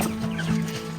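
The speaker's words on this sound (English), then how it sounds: "This is a good chicken." Chicken clucking close by on a small farm, a steady run of soft, low clucks filling the whole moment with no talk over it.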